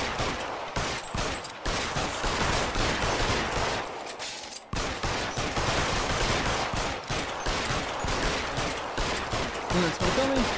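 Gunfire in the L.A. Noire video game comes in dense, rapid volleys of shots, loud and close, with a brief lull midway before the firing resumes.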